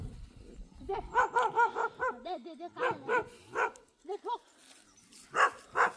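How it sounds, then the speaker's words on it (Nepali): Several dogs bark in quick bursts with a few whimpers and yips, close and loud, on a walk to gather firewood in rural Nepal. "कुकुरहरू भुक्दै गर्छन्"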